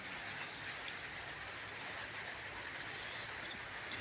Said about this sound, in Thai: ตอนนี้ฝนตก